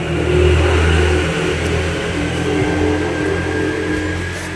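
A motorbike engine revs up loudly and close by, then settles into a steady, throaty running hum with no voices over it.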